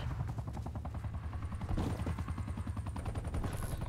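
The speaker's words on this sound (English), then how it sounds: "sentry turrets working your AO" A sentry turret fires in Call of Duty Cold War, a steady rapid burst of gunshots with a fast, even rhythm and a dense rattling tone that runs without pause, moderately loud and alone.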